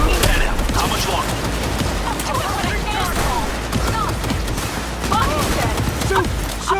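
Gunfire in the Cyberpunk 2077 video game: dense, rapid bursts of shots crackle continuously over a loud combat soundscape, with voices calling out in between.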